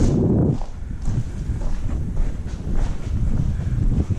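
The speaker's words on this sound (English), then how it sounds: "Man, the wind is blowing through here like a passage to another dimension." Wind gusts through the old Northwest Pacific Railroad tunnel near Hopland, California, making a continuous low, buffeting roar across the microphone with uneven surges and no speech.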